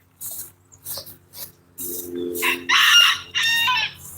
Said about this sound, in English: But while I got these chickens out,